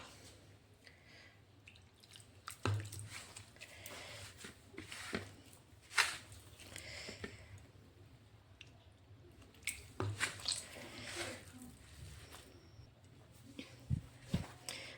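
Pasta dough being kneaded by hand with water added little by little, giving soft, irregular squishing and wet slapping sounds with occasional sharper taps, fairly quiet and close, with no talk.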